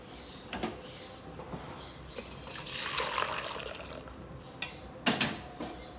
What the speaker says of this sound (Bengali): এবার জলটা একটা পাত্রের মধ্যে ঢেলে নেব